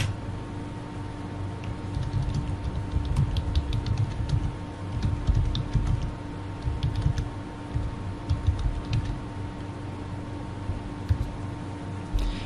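Computer keyboard typing as a question goes into an online chat box, a steady run of soft, quick key clicks over a low background hum, with no one speaking.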